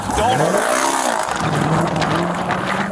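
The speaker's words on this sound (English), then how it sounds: "Vehicle took off." A car speeds away during a highway police pursuit, its engine roaring loud and close with a rising whine and a tire squeal near the start, under a continuous rush of road and wind noise.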